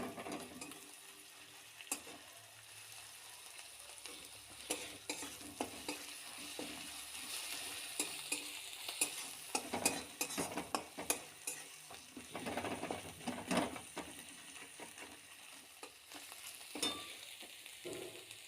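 Onion-garlic masala with mustard, ginger and chili paste frying in a pan, a soft continuous sizzle broken by irregular scraping and stirring strokes of a utensil, close and fairly quiet, with no talking.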